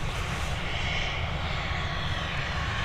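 An Airbus A320 departs Dublin Airport bound for Amsterdam, its engines giving a loud, steady, close roar that holds without a break.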